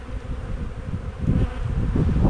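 A steady, low buzzing of honeybees close by at a hive, growing a little louder and denser partway through, with no talking.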